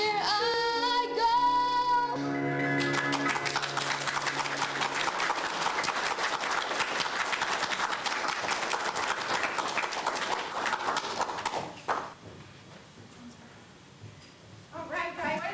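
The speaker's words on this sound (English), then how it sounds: "Give another round of applause for our performers." A sung music performance ends and a school audience breaks into steady applause for student performers, the clapping swelling loud and sustained, then thinning out before a brief renewed patter at the end.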